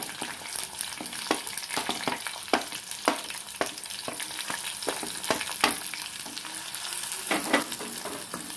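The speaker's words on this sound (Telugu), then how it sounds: "ఆయిల్ వేడెక్కింది ఇప్పుడు ఫ్రై చేసేస్తాను" Vegetables frying in hot sesame oil in a clay pot, a constant sizzle broken by repeated sharp stirring knocks at irregular intervals, close and clear with no talk.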